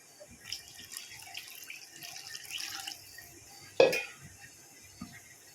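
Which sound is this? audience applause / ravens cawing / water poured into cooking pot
water poured into cooking pot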